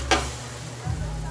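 Adobong balot, duck egg adobo seasoned with bay leaf and black pepper, simmers in a pot with a low, steady bubbling hiss and a soft clink near the start, with no talking.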